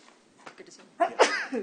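A single sharp sneeze bursts out, close and clear, during a county commissioners' court meeting. It follows a few faint spoken words.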